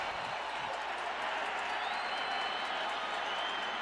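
A steady, loud crowd roar fills an NFL stadium, Texas Stadium, during a 2004 Washington Redskins at Dallas Cowboys football game. The cheering holds a constant wash of noise with no breaks.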